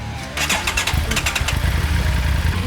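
A 2025 Triumph Tiger 900 motorcycle engine cranks and catches, then revs into a loud, rough, rumbling idle close by.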